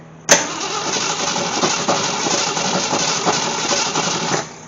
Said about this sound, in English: I put a new solenoid on, and now she's turning over okay